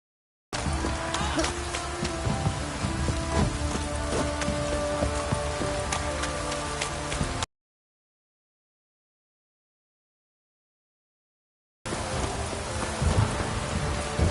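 A heavy downpour rattles down as a steady, loud wash of rain for about seven seconds, cuts to silence, then resumes near the end.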